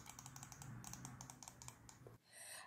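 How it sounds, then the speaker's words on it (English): A Dell computer mouse is clicked repeatedly, a series of quick, light, close-up clicks in a fairly even rhythm against a quiet background. "Next, let's check out the clicking sound on this mouse. I'll start with the Dell mouse, and here is how the sound looks."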